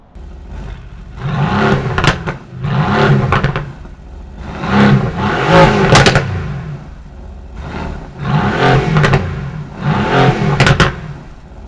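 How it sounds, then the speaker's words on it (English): A 2020 Mercedes-AMG GT R Roadster's handcrafted 4-liter bi-turbo V8 revs repeatedly through its exhaust, five loud, deep blips separated by short pauses, each swelling to a throaty roar with crackles as it drops back to idle. "Generating that amazing sound you just heard is a handcrafted 4-liter bi-turbo"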